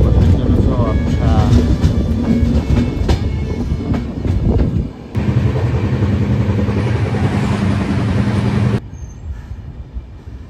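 Uttarbanga Express running through fog from Kolkata toward Darjeeling, a loud rolling rumble with clickety-clack of wheels, a steady hum, then a sudden drop to quiet near the end.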